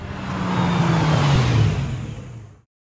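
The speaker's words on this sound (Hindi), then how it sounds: "गाड़ी की आवाज आई ना, मेरा बेटा आ गया।" A car arrives at a house, its engine a steady rumbling whir that swells and holds for a couple of seconds, then cuts off abruptly into silence.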